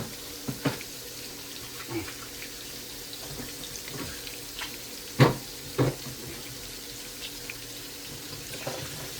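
Tap water runs into a kitchen sink while something is washed beneath it, a soft steady stream with occasional clinks and splashes, fairly quiet and heard from a moderate distance.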